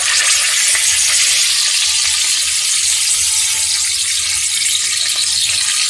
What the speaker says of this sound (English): put our little cutlets here into the oil and sear these things on both sides